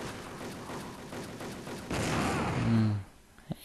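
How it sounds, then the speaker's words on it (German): Gunfire and a bomb blast in the online shooter WolfTeam: a rapid clatter of shots builds into a broad, roaring explosion that swells and cuts off, followed by a sharp single report. "Hey, die Bombe hat einen mitgenommen."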